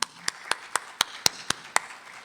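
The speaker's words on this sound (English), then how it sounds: "So we want to give them a round of applause." Sparse, evenly spaced hand claps at a college financial-aid information session, about nine sharp, close claps in a steady rhythm, more like one or two people clapping than a full crowd.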